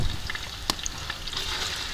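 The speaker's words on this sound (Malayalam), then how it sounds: "ഇനി ബാക്കി ഇതാ ചെറുള്ളി ഇട്ടിട്ട് നല്ലോണം ഫ്രൈ ചെയ്തെടുക്കുക" Shallots frying in hot coconut oil for Kerala-style country chicken varutharachathu, a steady close crackling sizzle with a brief sharp clink partway through.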